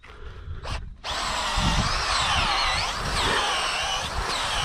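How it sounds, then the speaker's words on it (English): A power drill whirs steadily for several seconds after a brief start, loud and close, its motor pitch wavering slightly as it bores a hole for a coyote trap set. "And I have a drill for this."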